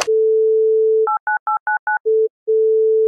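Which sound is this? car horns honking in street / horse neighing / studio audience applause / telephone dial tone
telephone dial tone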